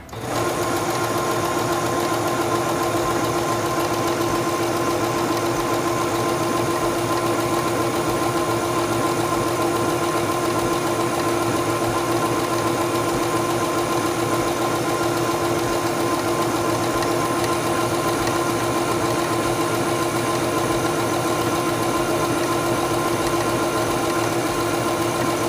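A Singer 7258 computerized sewing machine stitches fabric in a steady, fast mechanical whir with an even rapid needle rhythm, loud and close, running continuously without talk.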